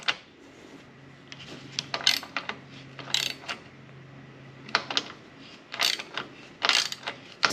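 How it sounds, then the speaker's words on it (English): A hand ratchet clicks in short irregular bursts while tightening bolts inside a 2005-2014 Ford Mustang interior, close and fairly crisp, with pauses between strokes and a low steady background hum. "I can tighten those bolts back up before I forget."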